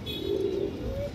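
Low pigeon cooing, a soft sustained coo from a female pigeon held close, heard against a steady background hum with no speech over it.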